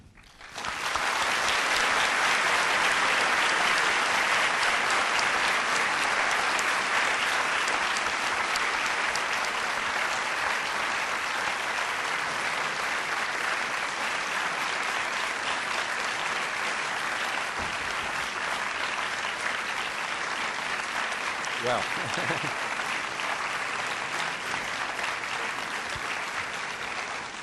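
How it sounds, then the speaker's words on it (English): A lecture hall audience breaks into long, sustained applause after a talk on aid to Africa, a dense even wash of clapping that holds for nearly half a minute, with a brief spoken word at the start. "I think that applause says it all"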